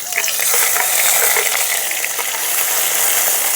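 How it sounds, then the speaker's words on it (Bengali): Green chili paste and ginger paste fry with a pinch of hing in hot oil, giving a steady, close, even sizzle with soft crackling throughout. "ভালো করে ভেজে নেব যাতে আদা আর কাঁচা লঙ্কার কাঁচা গন্ধটা চলে যায়"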